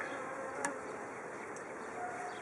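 Steady, faint buzzing of many honeybees around a hive hums continuously, with a brief louder buzz as one passes close.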